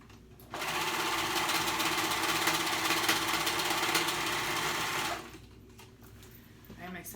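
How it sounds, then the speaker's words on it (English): A sewing machine runs in one continuous burst of about four and a half seconds while stitching the shoulder seams of a jacket, close and steady, then stops before a short stretch of quieter sound. "We're sewing those shoulder seams together."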